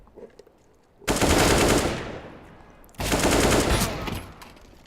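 Two long bursts of automatic gunfire in an esports shooter match, the first starting about a second in and a second volley following after a short lull, loud and close, each trailing off slowly.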